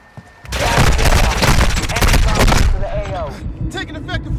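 Dense automatic gunfire in Call of Duty: Modern Warfare II, loud sustained bursts of rapid shots with booming impacts, then tapering into scattered shots while voices talk over the battle.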